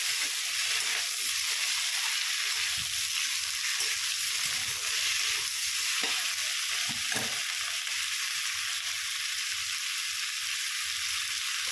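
Tomato with salt, turmeric, chili and cumin powder fries in a pan, a steady close sizzle throughout with occasional stirring scrapes.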